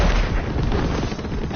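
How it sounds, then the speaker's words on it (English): Video-game explosions and gunfire-like blasts rumble in a dense, loud barrage, low booms piling over one another continuously through the brief stretch, with muffled voices faintly underneath. "let these explosions go away so I can actually hear you"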